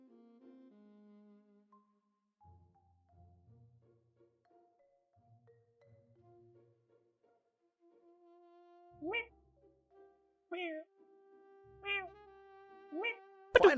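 Cats meowing in the video game Thought Experiment Simulator: after a stretch of soft, sparse sounds, four short, clear meows arrive at irregular intervals, rising in loudness toward the end.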